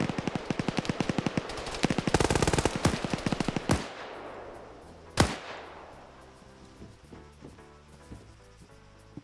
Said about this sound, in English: did you just get confused and mag dump Mr. Miner?